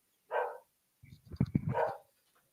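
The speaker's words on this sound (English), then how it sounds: "Sorry about the dog, guys." A dog close by gives two sharp barks about a second and a half apart, loud against an otherwise quiet room.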